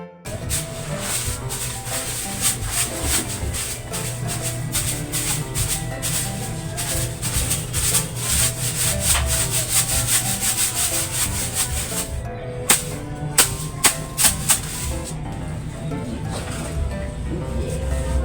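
Plywood being pried and torn out during a kitchen renovation: sustained scraping and rubbing of wood close by, followed by a few sharp knocks and cracks near the end.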